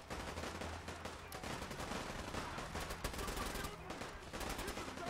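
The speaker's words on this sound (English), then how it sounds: "Oh, he's shooting the mutants." Rapid automatic gunfire rattles in a video game as mutants are shot, dense bursts of shots continuing across the whole stretch, loud and close, with some talking mixed in.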